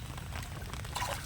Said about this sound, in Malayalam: നമ്മൾ കണ്ടത്തിലേക്ക് വെള്ളം ഇറക്കുവാണ്